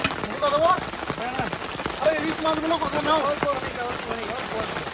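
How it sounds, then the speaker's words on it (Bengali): Heavy monsoon rain drums steadily in the background while people talk over it. "তিরিশ মিনিট অপেক্ষা করলাম কিন্তু বৃষ্টি থামার কোনো নাম নেই"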